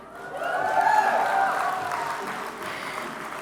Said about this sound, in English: because you clapped